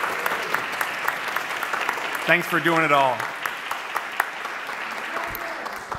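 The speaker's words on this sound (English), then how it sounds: "let's get a round of applause for the parents of all these folks here." An audience at a concerto competition finals applauds the performers' parents, a steady wash of clapping from a crowded hall while a voice speaks briefly over it.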